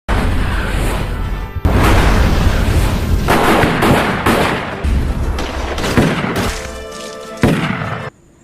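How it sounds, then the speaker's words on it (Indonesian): Film battle scene with a sniper shot setting off a firefight: dense, loud gunfire and booming blasts rolling continuously for several seconds, heavy and close, then cutting off abruptly. "Rocker menembak salah satu anak buah Mateo dengan snipernya untuk memancing pertempuran"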